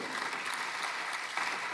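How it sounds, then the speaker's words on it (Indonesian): A church congregation at a Sunday worship service claps together in steady, full applause, a dense wash of hands lasting a couple of seconds with no voices over it. "Kita beri tepuk tangan buat firman Tuhan"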